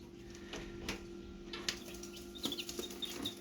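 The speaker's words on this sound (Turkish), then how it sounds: "5 tane civcivimiz çıktı arkadaşlar." Faint, high chick peeps come in short scattered chirps over a quiet background hum, growing more frequent toward the end.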